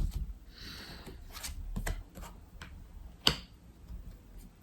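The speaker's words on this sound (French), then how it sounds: "On va aller recouvrir ces cartes-là." Tarot cards handled and laid over on a table: scattered soft taps, flicks and light shuffling, with one sharp snap near the end, close and quiet with no talking.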